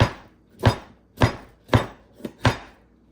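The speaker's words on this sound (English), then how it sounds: "I'm gonna go ahead and give it a quick little chop right here" Knife strikes a wooden board while chopping juicy grilled sazón chicken for burritos: five sharp, distinct chops spaced about half a second apart, close and clear with no talk.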